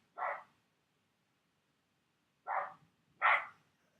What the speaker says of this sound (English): the neighbor's dog is barking incessantly